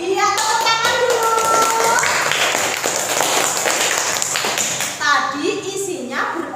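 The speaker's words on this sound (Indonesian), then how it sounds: "Iya, tepuk tangan dulu." Schoolchildren clapping their hands in a classroom, a dense burst of applause from a group, loud and close, with a teacher's and children's voices speaking over it at the beginning and end.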